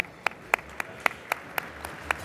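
One person claps alone at an award ceremony, giving about eight sharp, evenly spaced claps that sound faint against a quiet room.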